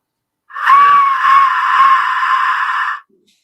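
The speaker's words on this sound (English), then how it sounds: "It's actually called an Aztec death whistle." A single shrill, piercing shriek from an Aztec death whistle, like a human scream, lasting about two and a half seconds and then stopping abruptly.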